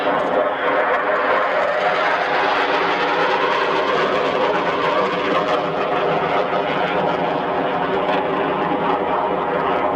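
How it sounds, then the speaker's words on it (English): F-4 Phantom jets, all-weather interceptor and attack aircraft, roar past in a flyby at an airshow, a steady, loud, broadband engine rumble that holds for the whole stretch with no pauses. "There they are, ladies and gentlemen, the F-4 Phantoms of the Mississippi International."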